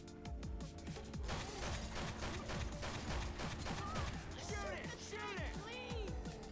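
Rapid, sustained gunfire in Left 4 Dead 2, a dense stream of shots continuing throughout, with people talking and shouting over it.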